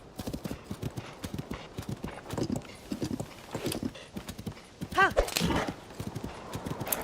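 Rhythmic clip-clop of horse hooves at a trot in The Legend of Zelda: Tears of the Kingdom, fairly close, with a brief whinny midway and faint game sounds around it.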